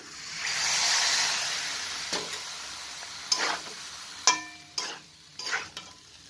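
Food in a pan sizzles loudly right after a little water is added, then settles into quieter frying broken by several sharp scrapes and clacks from a spoon stirring, close up.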